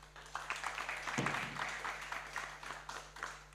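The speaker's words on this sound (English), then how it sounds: "a massive round of applause for Ayan first" An audience at a community festival in London claps in a short, moderately faint round of applause that swells and then thins out over a few seconds, with no one speaking.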